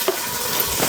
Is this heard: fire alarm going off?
no